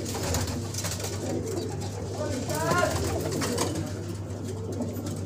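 Hyderabadi pigeons coo softly in a loose flock, with low, murmuring calls rising and falling under a constant background hum and faint ambient noise.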